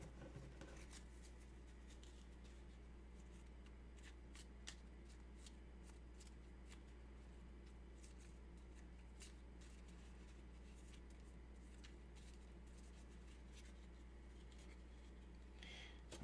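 A deck of Gloomhaven board game cards is shuffled close by in repeated soft riffles and crisp flicks, quiet and unbroken by talk.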